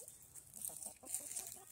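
Sex link hens cluck in a series of soft, short, irregular calls, close by, with no other sounds over them.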